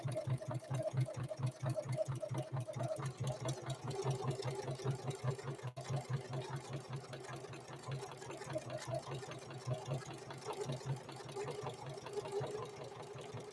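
A Necchi NE30 sewing machine stitches through elk hide with a slow, heavy, evenly pulsing thump of each needle stroke, steady and fairly quiet throughout.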